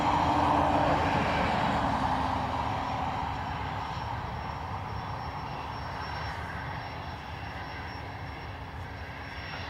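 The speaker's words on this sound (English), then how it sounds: "this is one of the Ryanair Challengers used for crew and part transport around Europe" A Ryanair Challenger business jet at Dublin Airport gives off a continuous engine roar with a low steady hum, loudest at the start and easing gradually as it moves off.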